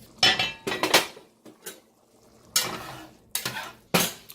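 Metal pot and lid clanking and scraping while spaghetti cooks, several sharp close clatters separated by brief pauses, with no talking.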